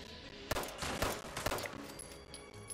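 Gunfire in Fallout 76 in Appalachia during a VATS-targeted attack, a quick burst of several sharp shots in rapid succession followed by ringing tones, with no talk.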